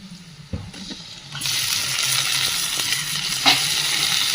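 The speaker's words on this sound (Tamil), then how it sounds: "இப்போ நம்ம தக்காளி போடலாம்." Chopped tomatoes hit a pan of frying onions with curry leaves for village-style chicken kuzhambu, and a sudden loud hiss rises and holds as a steady sizzle, with a few stirring knocks.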